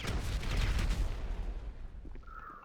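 A booming bomb explosion at a vault in Grand Theft Auto, with a dense low rumble that fades over a couple of seconds, ending in a brief whistling tone.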